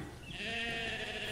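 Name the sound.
sheep bleating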